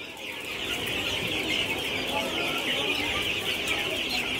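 A crowd of nine-day-old broiler chicks in a multi-tier cage farm keeps up a continuous, dense high peeping while feeding from pipe feeders, loud and steady throughout.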